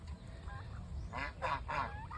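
A goose honks three times in quick succession, moderately close, over a low background rumble.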